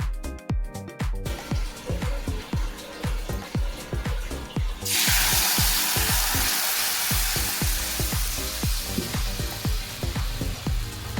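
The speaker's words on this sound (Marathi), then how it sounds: "आता जिऱ्याची फोडणी करून घेऊ" A rhythmic pulsing beat plays under sizzling, then cumin seeds dropped into hot oil suddenly erupt into a loud, steady crackling hiss partway through.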